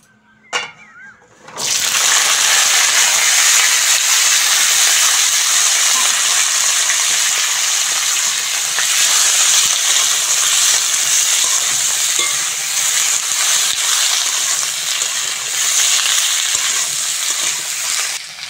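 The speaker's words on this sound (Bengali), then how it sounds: "কেটে ধুয়ে রাখা সবজিগুলো ভালো করে ভেজে নেব" Chopped winter vegetables sizzle loudly in hot mustard oil in a wok, a steady dense frying hiss lasting throughout after a brief quieter start, with occasional stirring.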